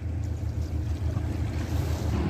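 A boat pushes through churning sea water on a trip out to an island, giving a steady low engine rumble and constant wash of water and wind noise, close and continuous with no talk.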